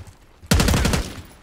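Rapid machine-gun fire raking a helicopter during a desert battle in Call of Duty Black Ops 6, a loud close burst of about half a second of overlapping shots starting abruptly after near silence, then tailing off.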